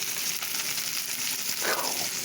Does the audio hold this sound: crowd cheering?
no